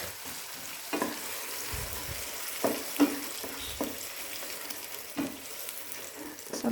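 Ground pepper masala frying in ghee for Udupi-Mangalore chicken urval, a low steady sizzle with several sharp stirring scrapes of a spoon against the pan, close and without talk.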